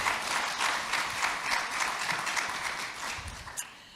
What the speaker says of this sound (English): Please join me in giving him a hand and welcoming to this panel